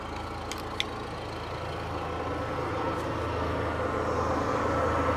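Honda EU7000is generator running steadily inside a closed, ventilated shed enclosure, a continuous close engine hum with rushing intake air and no speech.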